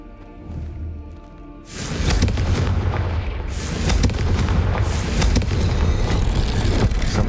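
Confringo blasting spell in Hogwarts Legacy setting off a loud, broad explosive roar that swells and sustains with crackling bursts after a quieter lead-in.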